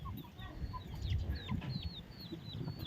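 Chickens cluck and chirp in short bursts nearby, scattered across a quiet outdoor background with faint low rumbling.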